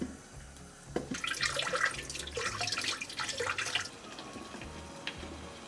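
Fruit being washed under running tap water, a steady splashing stream rising in the middle of the clip and then easing off, fairly close and with no talking.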